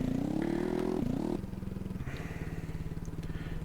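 Motorcycle engine in the VR game Moto Taxi, a buzzing revving note that rises, then drops to a lower steady putter with a rapid rhythmic pulse, alone and fairly close.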